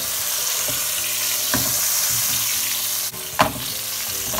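Sea bream sizzling steadily in a hot pan, a continuous bright frying hiss with a few soft clicks and a louder knock of a utensil near the end.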